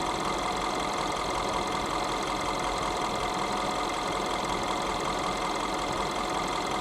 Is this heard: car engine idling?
yes